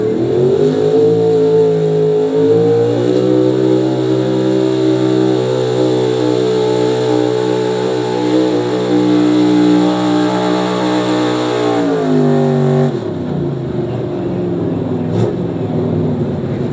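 The 4-Acre Shaker pulling truck at a truck and tractor pull in New Lexington, Ohio, holds a loud, sustained engine roar close by, then the pitch drops sharply as it cuts back near the end.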